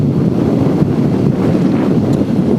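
Steady, loud wind roar buffets the microphone while riding a BMW R1250R naked motorcycle at speed, with no wind protection. The broadband rush is continuous and unbroken, with no other sounds or talk.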